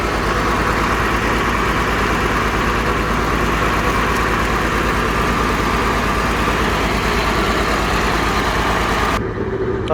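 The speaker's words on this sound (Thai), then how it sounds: "เปิดวาล์วแล้วนะครับ แล้วก็เร่งเครื่อง" A truck engine revs to drive a PTO-powered suction pump on a hot, dusty worksite, a loud continuous low rumble held steady for the whole stretch, with no voices.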